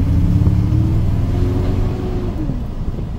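A 2008 Ford F-350 utility bed truck with a misfire, driving with a loud close engine rumble whose pitch climbs and then eases off as it moves along, no voices heard.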